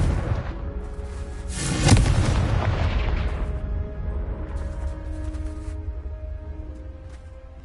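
Blasting spell from Hogwarts Legacy: a loud boom bursts near two seconds, then its broad rumble slowly decays beneath a sustained musical tone.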